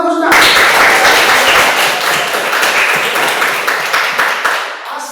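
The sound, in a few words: audience clapping for a student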